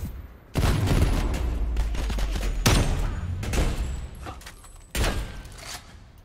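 M82 sniper rifle fire in Call of Duty Cold War: several heavy, booming shots spaced about two seconds apart, loud and close, each with a long rumbling tail, with no talk over them.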